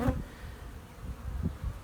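A low, continuous hum of honeybees hovers near their hive, fairly faint and even, with a couple of brief louder passes close by and nobody speaking.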